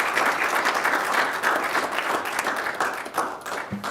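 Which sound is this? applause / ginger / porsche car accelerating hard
applause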